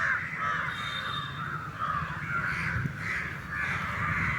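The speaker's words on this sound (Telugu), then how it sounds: "కాకులు చాలా ఎక్కువ ఉన్నాయండి ఇక్కడ" Many crows caw repeatedly in a steady, fairly distant outdoor chorus near a large Christmas stage display.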